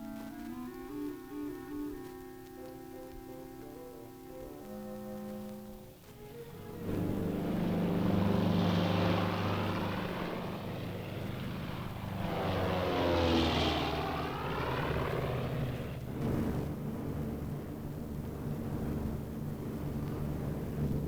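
Military transport aircraft engines drone for a paratroop takeoff. A steady tone in the first few seconds gives way to a loud, rising propeller roar that swells and surges and holds throughout.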